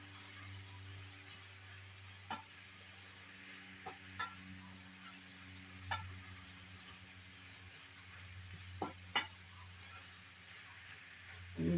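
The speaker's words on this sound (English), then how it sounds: "Just want to stir it around really well." A spoon scrapes and clicks now and then against a skillet as cabbage and smoked sausage cook down, soft and sparse over a low, steady background hum.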